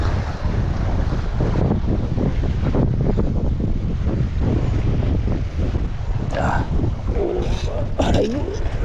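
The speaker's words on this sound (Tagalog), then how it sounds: "Maalon, maganda yung ganito eh." Rough sea slaps and churns around a small fishing boat out after snapper while strong wind buffets loudly and steadily throughout, with some splashing near the end.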